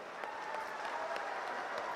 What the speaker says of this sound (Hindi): बजी ना ताली।